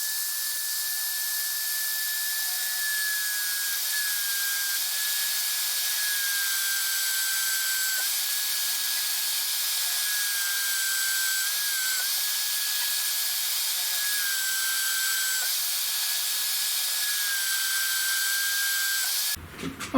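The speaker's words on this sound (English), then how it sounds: "Okay, so let's get drilling" A power drill boring holes in parts for a homemade CNC router's Z-axis, a steady high-pitched whine held continuously for about twenty seconds, close and alone, cutting off abruptly at the end.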